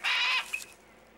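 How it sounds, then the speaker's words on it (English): A hawk gives a single loud, high-pitched piercing call with a short trailing note, heard alone in the desert while stalking an antelope ground squirrel. "The hawk tries to spook the squirrel with high-pitched calls."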